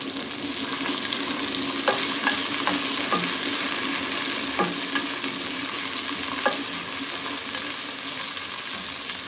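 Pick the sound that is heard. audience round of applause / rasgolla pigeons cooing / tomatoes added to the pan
tomatoes added to the pan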